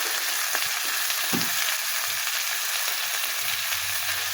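Tengra fish fries with salt and turmeric in a pan for a fish and potato curry, making a constant, even crackling sizzle with a few soft knocks from stirring, close and fairly loud.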